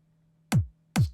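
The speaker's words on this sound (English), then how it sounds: "It's kind of an abbreviated kick" Two short, punchy electronic kick drum hits from an uplifting trance production, each abbreviated with a quick decay, sounding alone over a faint low hum with a clear gap between them.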